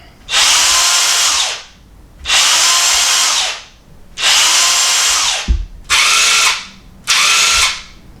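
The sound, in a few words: cordless impact wrench braking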